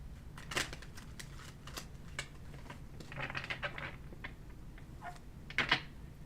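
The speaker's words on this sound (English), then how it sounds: "the cards are trying to stick to the table. All right, so let me shuffle them up" Tarot cards are shuffled on a table in soft bursts of riffling and slapping patter, close and faint, with pauses between shuffles and no talk.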